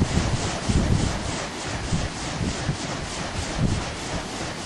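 Steady wind rushing across an outdoor microphone while it turns an autogiro helicopter rotor near 230 RPM on Long Island, New York, a broad continuous roar with gentle gusting swells and no voices.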